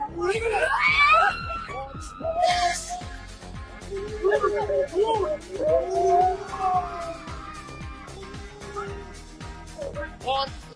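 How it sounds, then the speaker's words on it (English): A woman lets out demon-like screams, rising and falling howls and shrieks with a dog-like whine, loud and close, broken by short gaps and strained vocal bursts throughout. "we had to bring out the demon screams"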